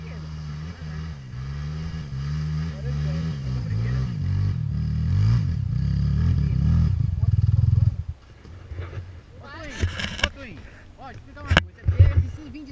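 A Honda CRF dirt bike engine rumbles and revs steadily, then cuts off abruptly, followed by clattering and people talking nearby.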